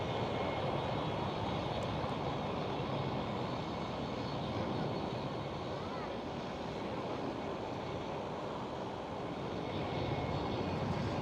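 A KLM Cityhopper Embraer E190 airliner passes at Amsterdam Schiphol, its jet engines a loud, steady wash of roar that stays strong and even from start to finish.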